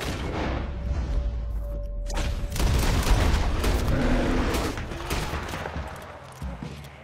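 Gunfire in Red Dead Redemption 2: a sustained clatter of shots and booming impacts, loud and close, building after a quieter opening and easing off toward the end.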